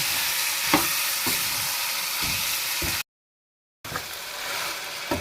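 Chicken karahi fries with masala in a pan, a loud, steady sizzle with occasional thuds and scrapes of stirring, cut by a brief moment of complete silence before the frying resumes; nobody speaks.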